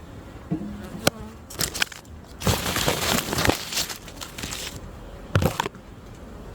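Honey bees buzz densely around an opened hive box during a fall honey check. Close crinkling and thumping handling noises run through the steady hum, and no one speaks.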